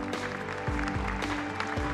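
An audience applauds at the rollout ceremony for the KF-21 Boramae fighter jet, steady, dense clapping at moderate distance, fairly faint throughout.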